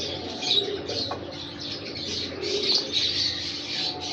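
A breeder Qasuri pigeon coos in soft, repeated low calls, with light chirps and faint wing flutters nearby against a steady background hiss.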